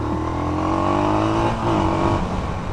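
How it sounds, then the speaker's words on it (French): An SWM Outlaw 500 motorcycle engine pulls hard under acceleration, a loud, rising, buzzy drone with a brief dip mid-way as it shifts, then climbing again. "il est vraiment très volontaire le moteur"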